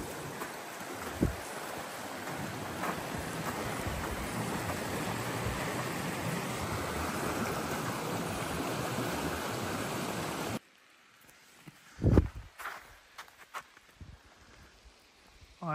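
Spring meltwater rushing over rocks as snow thaws, a steady, broad outdoor roar that fills the first ten seconds, then cuts to a quieter stretch with faint trickling and a few nearby knocks.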